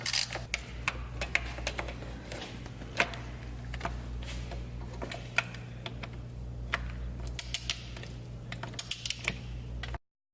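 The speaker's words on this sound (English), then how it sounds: "And then I'm going to grab my ratchet." A ratchet tightens transmission pan bolts on a 1960 Cadillac Series 62, giving quick irregular clicking over a steady low hum that then stops abruptly.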